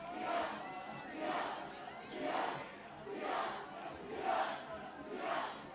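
Crowd at a high school football game, Summit versus Bend, roaring and chanting in rhythmic swells about once a second on a third down, distant and steady with no voice rising above it.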